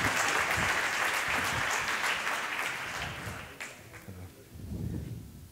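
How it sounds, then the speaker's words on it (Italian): An award ceremony audience claps loudly and steadily in dense, continuous applause that slowly thins out, with a brief swell near the end. "Non mi capita spesso di avere l'applauso ancora prima di parlare"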